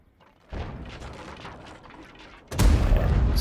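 An artillery piece fires in a tank-battle video game match, a rumbling volley followed by a loud close boom near the end.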